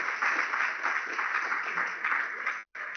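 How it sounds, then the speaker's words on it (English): Applause from a conference audience, a dense, even patter of many hands clapping for about three seconds, filling the room and cutting off abruptly near the end. "So let's have a big round of applause for Ros Croucher."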